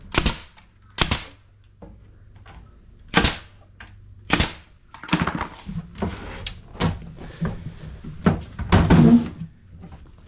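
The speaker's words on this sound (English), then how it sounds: "And then what I like to do is put a couple of brads." A brad nailer fires brads into the toe kick of an RTA cabinet, sharp loud pneumatic snaps spaced irregularly, mixed with wooden knocks and handling clatter at close range.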